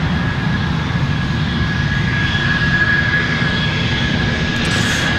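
A PSA Airlines jet at Raleigh Durham International Airport, its engines producing a loud, steady roar with a whining high tone, heard close and continuous with no talking.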